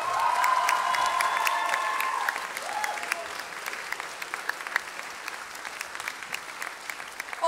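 Audience applause at a Dutch amateur musical performance, a dense crowd of clapping with a few cheers and whoops, loud at first and then easing to a steady, thinner patter.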